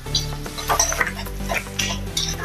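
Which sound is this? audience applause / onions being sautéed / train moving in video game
onions being sautéed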